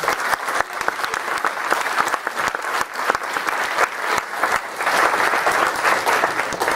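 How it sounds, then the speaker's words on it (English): Sustained audience applause following a lecture by Professor Marvin Sweeney, a dense wash of many hands clapping at steady loudness throughout, with no voices on top. "let's give him another round of applause"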